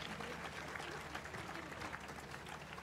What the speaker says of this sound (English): Please give them a big round of applause and tell them how much we love their performances